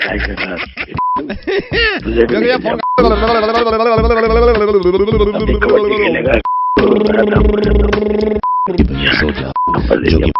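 Short steady telephone tones sound repeatedly after a call is cut on a radio prank call, brief beeps alternating with loud talk over background music.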